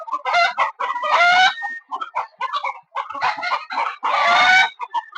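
Native country chickens cluck and squawk in a close, busy chorus on a farm, with bursts of louder calls rising and falling without pause.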